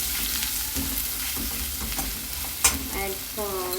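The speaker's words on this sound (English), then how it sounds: "add the onion also, and saute the onion" Onion sautéing in a pan with green chili, dal and curry leaves, a steady sizzle broken by scraping stir strokes and one sharp clink, with no talk.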